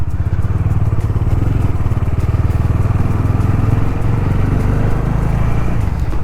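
A Bajaj Dominar 400 motorcycle with about 30,000 km runs steadily after starting, its loud, close engine throbbing in a continuous even rhythm throughout.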